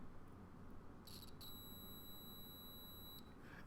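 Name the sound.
continuity tester beeping through a diode-tested audio cable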